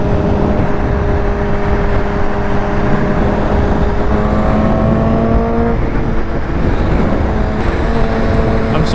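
Honda CBR motorcycle fitted with a crackly slip-on exhaust, a steady droning engine note held at cruising revs with small pitch shifts as it rides along, loud and continuous with no talk.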